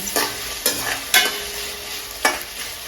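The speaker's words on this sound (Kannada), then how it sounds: "ಚೆನ್ನಾಗಿ ಸಾಫ್ಟ್ ಆಗೋದು ಫ್ರೈ ಮಾಡ್ಕೋಬೇಕು" A spatula stirs tomato sambar ingredients with green chilli as they fry in a pan, making four distinct scraping strokes spaced about half a second to a second apart over a soft, continuous sizzle, with no talking.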